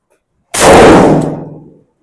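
One sharp, loud gunshot from a Kral Arms KR 556 Pro shotgun, a sudden blast that decays within about a second, alone with no talk.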